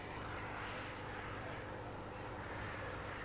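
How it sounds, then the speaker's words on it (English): A JPX T240 gas turbine on a 1/9 scale model jet roars as a steady, loud, broadband whine and rush. No other sounds break through it. "powered by a JPX, the T240, a wonderful gas turbine engine model which you can hear at the moment"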